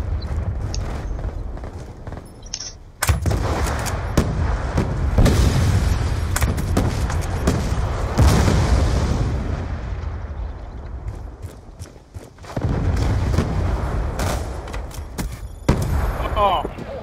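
Rapid gunfire and explosions from a Gun Game match in the video game Call of Duty Black Ops 2, a loud continuous barrage with sharp booms, briefly dropping out twice, with players talking over it.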